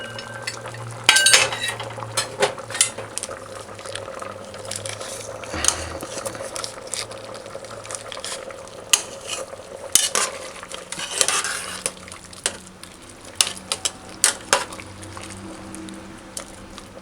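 Chicken feet stew peas stirred in a pot, with clinks and scrapes of a spoon against the pot coming in irregular bursts, close by, and faint background noise between them.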